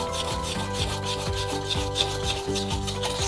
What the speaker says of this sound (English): you're going to take the pumice stone and you're going to really scrub